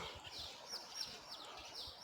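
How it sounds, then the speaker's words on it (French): Many small birds chirp and tweet in repeated bright bursts on a quiet, empty street in Nagiso-area post town Nagakubo-shuku on Japan's Nakasendo, with a steady low background hum beneath. "plein de petits oiseaux"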